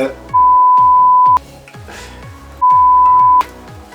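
Two sustained censor bleeps, each a steady pure tone lasting about a second, cut across muffled background audio in a French reaction to TikToks.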